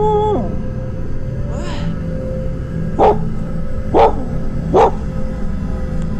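A dog barks three times in separate, evenly spaced bursts, each sharp and fairly close, over a steady low background hum with no talking.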